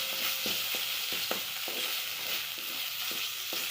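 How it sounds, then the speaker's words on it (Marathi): Spice tempering with turmeric and asafoetida sizzles steadily in hot oil for kadhi, a continuous hiss broken by light, regular scraping of a spoon in the pan, with no talking. "हे सगळं व्यवस्थित परतून घेऊन आपण ही फोडणी त्या कढीमध्ये टाकणार आहोत"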